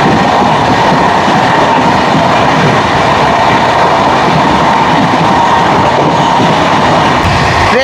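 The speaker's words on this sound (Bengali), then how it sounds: "ট্রেন কিন্তু এখন ফুল স্পিডে এগিয়ে চলেছে, 130-এর গতিতে এগিয়ে চলেছে।" An express train between Kharagpur and Belda on the Howrah to Puri route runs at full speed, about 130 km/h, heard from inside as a steady, loud, continuous rumble and rattle with no break for the whole stretch.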